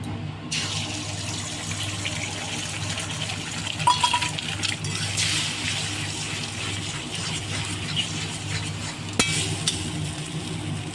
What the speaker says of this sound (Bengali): এবার ডিমগুলো প্রথমে ডিমগুলো ভেজে নেব।